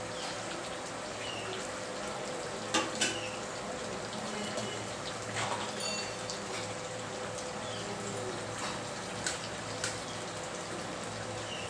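Prawns go into a pan of frying potatoes, giving a low, steady, rain-like sizzle broken by a few soft clatters.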